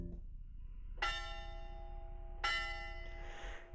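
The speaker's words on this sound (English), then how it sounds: "the bell in the clock tower strikes 10" A clock tower bell on a university campus in a video game tolls twice, each strike ringing out clearly with a long, shimmering decay over a low background hum.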